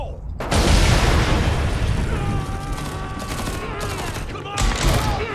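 A grenade goes off in Homefront: The Revolution, a loud, close blast that quickly gives way to rolling rumble and bursts of gunfire, with shouting voices in the game scene over the din.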